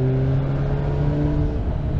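A 2021 Suzuki Hayabusa motorcycle engine hums steadily and close as the throttle is worked, with a sustained droning tone that rises slightly, with no talk over it.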